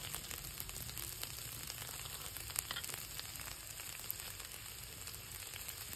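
Fish roe fries in a pan with a steady dense sizzle and light scraping as it is stirred. The sizzle is continuous and even, with faint occasional clinks and no voices.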